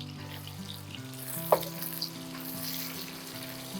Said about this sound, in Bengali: ঝিঙেটা দিয়ে বেশিক্ষণ ভাজতে হবে না